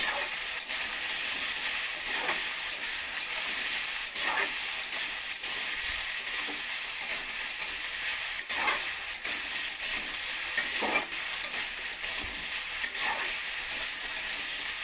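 Thin-sliced potatoes fry in a pan, a bright continuous sizzle and hiss with occasional soft stirring scrapes, close and with no talking.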